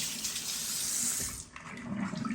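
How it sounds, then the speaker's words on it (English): Water from a kitchen tap pours steadily over hands being rinsed, a loud close hiss and splash that shifts briefly midway as the hands move under the stream. "Rinse my hands real quick here."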